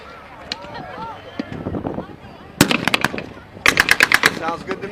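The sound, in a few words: 3-inch gun firing at WWII reenactment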